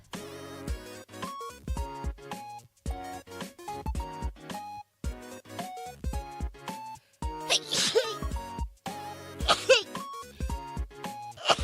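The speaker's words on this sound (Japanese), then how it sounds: "鼻が、あ、待って、くしゃみ出る。" A sneeze from a female streamer amid background music with synth tones, bursting out twice in sharp noisy blasts around the middle and later, loud against the steady melody.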